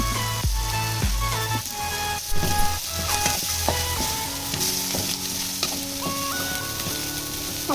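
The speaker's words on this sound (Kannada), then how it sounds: "ಚೆನ್ನಾಗಿ ಫ್ರೈ ಮಾಡಿ." Green chillies frying in a pan, a loud continuous sizzle with crackles and scraping stirring clatter, up close with no voices.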